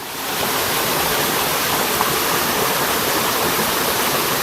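A waterfall in full flow after recent water pours as a steady, loud broadband rush, continuous and unbroken throughout with no voices over it.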